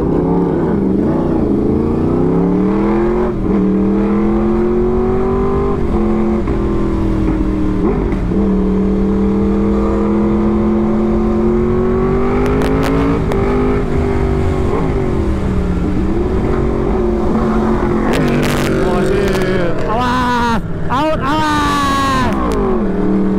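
A big motorcycle engine drones and revs steadily on the road, its pitch rising and falling with the throttle, loud and close throughout, with riders talking now and then over it.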